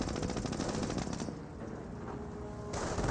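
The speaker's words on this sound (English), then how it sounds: "AT gun shots, taking some pot shots on the Panzer Grenadiers" Rapid anti-tank gun and small-arms fire in the Company of Heroes battle game, a dense crackling burst that briefly drops away, then resumes, moderately loud with no talk.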